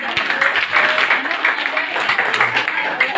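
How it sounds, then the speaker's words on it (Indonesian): A class of students applauds together in a classroom, with brisk, fairly loud clapping throughout and people talking alongside it. "Oke, kita tepuk tangan dulu."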